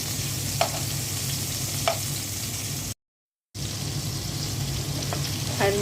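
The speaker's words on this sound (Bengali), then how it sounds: "মাছ ভাজা তেলের মধ্যে পেঁয়াজ দিয়ে দিচ্ছি" Onions sizzle loudly in hot oil left over from frying aair fish, a steady, dense crackling broken only by a brief total silence midway, with a few faint utensil clicks over it.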